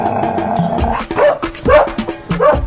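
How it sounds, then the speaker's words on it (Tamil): A dog gives a burst of loud, close barks and yips in quick irregular succession, with a short whine between them and no talk over it. "வாங்க வந்து நாயை பிடிங்க. அது கடிக்காதுங்க."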